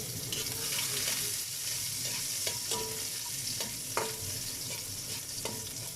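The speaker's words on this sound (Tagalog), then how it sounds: "mag-start natin ang ating paggisa ng ating bawang" Garlic sautéing in hot oil in a pan, a steady close sizzle broken by repeated sharp scrapes and taps of a stirring utensil, with no voices.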